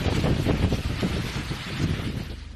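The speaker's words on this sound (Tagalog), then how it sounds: "Malakas na ulan at hangin ang sumalubong sa ilang motorista sa Bagabag, Nueva Vizcaya." Strong typhoon wind and rain from Typhoon Pepito roar across the microphone in Bagabag, Nueva Vizcaya, a continuous rushing buffet that swells and eases over a few seconds.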